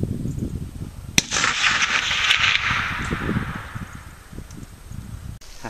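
A single sharp report from a Winchester 94 30-30 lever-action rifle firing a cast 150-grain flat-nose bullet at a 350-yard target, followed by a long hissing trail of noise against wind-like rumble outdoors.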